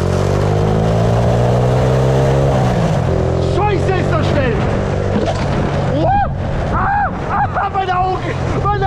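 A motorized shopping cart accelerates at full speed, a loud revving engine drone climbing steadily in pitch, then giving way to rushing wind and excited shouting voices.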